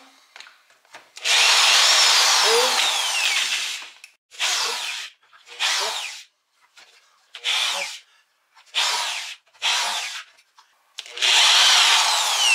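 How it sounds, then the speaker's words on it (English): A power drill whines loudly in repeated bursts, one long run followed by several short pulses, close by and with no talking. "You can drill halfway through, flip it over."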